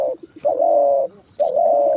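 Pet pigeons coo close up in two loud, sustained rolling calls separated by a short pause, with a few softer clicks between them.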